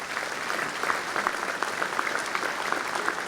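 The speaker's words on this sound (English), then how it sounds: "Let's give them a big round of applause" Commencement audience at a university graduation ceremony gives a big round of applause, a steady wash of many hands clapping from a large crowd, even and sustained throughout with no talk over it.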